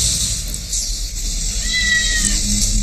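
Cats at a cat sanctuary in Rome meow, a drawn-out plaintive cry rising and falling near the middle, heard over steady outdoor background noise without talk.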